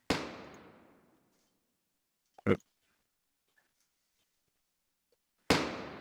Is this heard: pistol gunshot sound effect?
yes